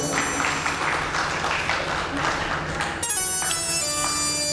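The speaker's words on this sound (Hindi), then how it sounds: "प्रेम से इनके लिए जोरदार ताली सेवा की जाए।" Applause for the performing artists at a Shrimad Bhagavat Katha gathering in Vrindavan, a steady wash of clapping that carries over sustained instrumental tones, with the musical notes standing out more clearly in the last second or so.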